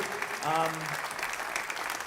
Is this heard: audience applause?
yes